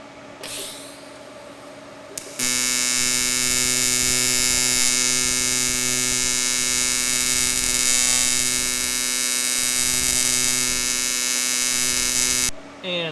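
Steady, loud TIG welding arc from an Everlast PowerTIG 255EXT running a triangle AC waveform, a dense buzzing hum with rich harmonics that starts abruptly after a short lead-in and holds for about ten seconds before cutting off.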